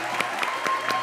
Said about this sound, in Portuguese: Você pode dar uma salva de palmas para os meninos?